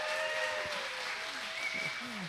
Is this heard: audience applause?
yes